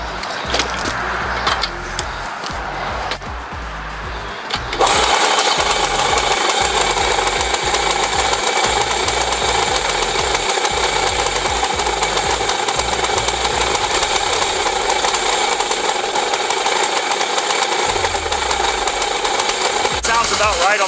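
A dirt bike engine with a freshly cleaned and rebuilt carburetor, choked for starting: a few seconds of uneven kicking and sputtering, then it catches into a loud, steady, close buzzing idle that runs on, with a brief voice near the start.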